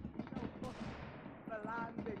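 Faint, muffled bursts of gunfire from the multiplayer video game SCP: Secret Laboratory crackle at a distance, with a brief voice-like sound mixed in.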